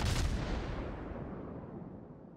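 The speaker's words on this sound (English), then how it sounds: "I think they have changed the gun sounds since I last played" A single heavy naval gun salvo from a warship in a naval battle video game booms loudly, then rumbles and fades out over about two seconds, with no talking.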